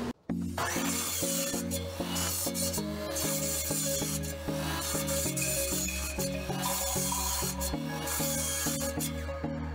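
Wooden rings for a lightsaber hilt cut to length against a stop block, a steady rasping, rubbing saw sound that goes on and on with a regular repeating pulse, close and fairly loud, with no talk.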